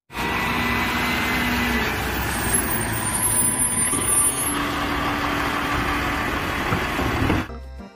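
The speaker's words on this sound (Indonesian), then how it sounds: "Lihat teman-teman, di sini ada truk pengangkut sampah." Garbage truck running nearby, a steady loud engine drone with hissing and faint high tonal whines, holding constant for several seconds before cutting off abruptly at the end.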